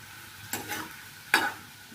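Okra (bhindi) frying in hot oil gives two short sizzling bursts about a second apart, each rising sharply then fading, close and fairly faint against a quiet background.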